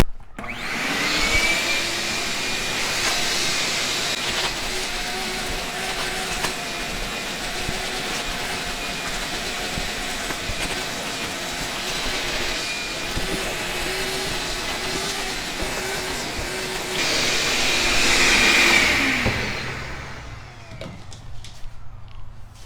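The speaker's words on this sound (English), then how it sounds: "I'll give this one a quick vacuum also" A vacuum cleaner runs continuously at close range on a Corvette C3 clamshell seat, a steady whine with shifting suction tones that swell near the end before cutting off abruptly.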